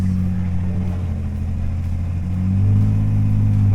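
A damaged, totaled BMW X5M engine idles with a loud, deep droning hum close up, then swells slightly as it revs toward the end.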